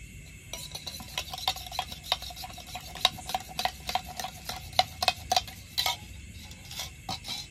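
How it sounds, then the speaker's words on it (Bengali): An egg with salt being beaten in a glass, rapid light clinking and tapping of a utensil against the glass in uneven bursts, close and fairly quiet. "এবার লবণ দিয়ে ডিমটাকে একটু ঘাটিয়ে নেব"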